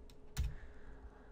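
A single soft keystroke on a computer keyboard during animation software work, with a faint earlier tap, brief and quiet against low room noise.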